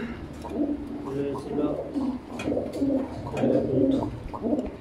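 A male Chinese Owl fancy pigeon at a pigeon farm gives repeated soft, throaty coos close by, heard beneath ongoing conversation.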